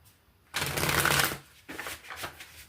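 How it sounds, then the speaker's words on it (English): A deck of tarot and oracle cards riffled and shuffled in two bursts, the first long and loud, then a shorter burst of quicker riffling, close up with no talking. "One more shuffle."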